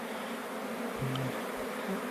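Dense, steady buzzing of many bees close by, a continuous drone with occasional louder passes.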